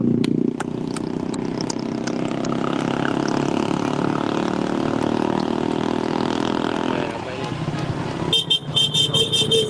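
Engines of motorcycles and cars rumble past close by at a running event, a continuous drone, with a few horn toots near the end.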